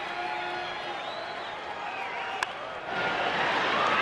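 Baseball stadium crowd noise as fans urge a pitcher on toward strike three, a sustained roar with one sharp crack partway through, then swelling louder near the end.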